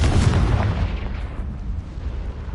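Confringo fire spell blast in Hogwarts Legacy, a loud close explosive boom that rolls into a sustained fiery rumble and slowly decays.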